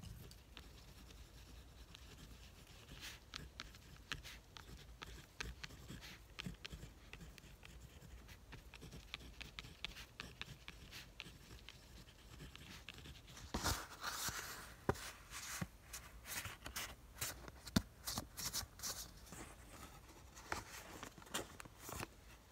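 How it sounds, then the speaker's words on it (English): Pen or pencil writing a journal entry by hand, a faint close scratching with irregular short strokes and taps continuing steadily, slightly busier toward the end. "And let me write an entry for today."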